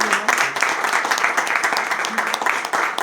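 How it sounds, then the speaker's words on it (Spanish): Steady applause from an audience, many hands clapping in a dense, continuous wash that holds throughout. "le damos un muy fuerte aplauso"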